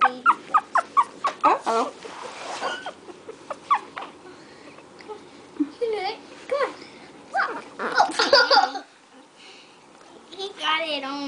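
Shih Tzu puppies whimper and squeal in short, repeated high cries, close and fairly soft, while a person speaks briefly among them.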